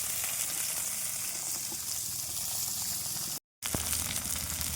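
Bitter gourd pieces frying in hot oil with a little salt, a dense continuous sizzle filling the clip, close and steady, cut by a brief silent gap near the end.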